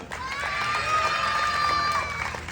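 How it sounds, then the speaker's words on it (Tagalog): Audience applause and cheering at a national costume pageant segment, a steady wash of crowd shouts and whoops with clapping underneath, moderately loud and sustained throughout with no pauses. "maaari po ba akong manlimos ng palakpakan at hiyawan?"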